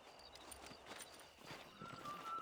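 Horses ride out in the video game Red Dead Redemption, their hooves producing a soft, steady clip-clop under faint ambient noise and wind.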